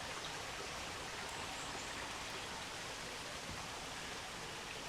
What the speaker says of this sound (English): You can hear the water running from here and see it coming down over there.